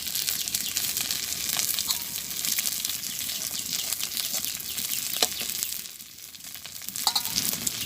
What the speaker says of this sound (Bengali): এক পাশ ফাঁকা করে নিছি, কড়াইতে তেল আছে, আমি এখন এর ভিতরে কয়েকটা রাঁধুনি দিয়ে দেবো।